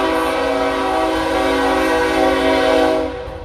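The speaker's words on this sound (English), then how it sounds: "Don't mind the train" A passing train blasts its horn loud and close beside an outdoor wine bar pop-up event, a sustained, steady tone lasting about three seconds before it starts to fade.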